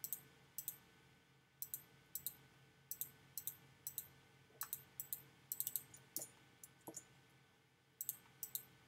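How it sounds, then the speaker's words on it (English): Mouse clicks from a computer lasso tool while designing an all-over sublimated shirt graphic, sharp and close, coming in quick clusters of two or three with short pauses between them, no talking. "So now I just click, click, click, click, click."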